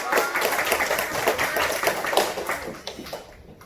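Children at a church elementary Sunday-school service clap for fellow students, a dense burst of clapping that is loud at first and then thins out toward the end.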